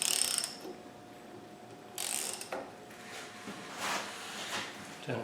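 Land Rover 200Tdi diesel engine, freshly fitted with new pistons, being turned over by hand: repeated ratcheting mechanical clicks and broad whooshing bursts, close and fairly loud, with a steady faint tone underneath.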